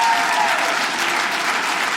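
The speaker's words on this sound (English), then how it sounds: "Give a round of applause." Audience applause at a stand-up comedy show, a loud, full and steady roar of clapping from a large crowd with a faint murmur of voices.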